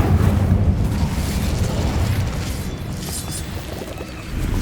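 A fire spell is cast in the wizarding video game Hogwarts Legacy, a loud, rumbling burst of flame that roars steadily for several seconds with low booming weight.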